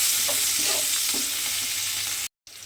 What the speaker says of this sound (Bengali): সেই পেঁয়াজটা আমি তেলের মধ্যে দিয়ে দিলাম। দিয়ে পেঁয়াজটা আমি একটু হালকা করে প্রথমে ভেজে নেব।